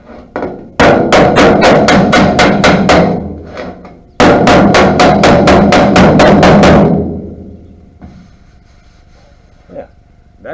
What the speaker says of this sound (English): I'm hitting it, I'm moving the dolly back and forth so it's behind where the hammer is hitting.